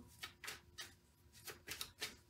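Tarot cards being shuffled by hand, giving a string of soft papery riffles and slaps in uneven bursts, close and fairly quiet with no talking.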